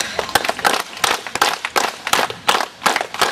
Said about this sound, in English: That's the high sound of clapping.